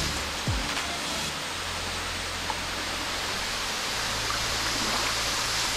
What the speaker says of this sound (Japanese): この滝から来る風。